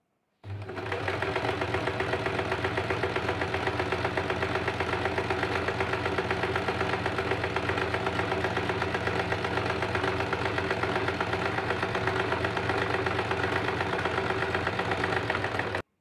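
A sewing machine runs steadily while stitching a blouse lining to a princess-cut blouse, a continuous close mechanical whir with a fast even rhythm lasting throughout, no talking.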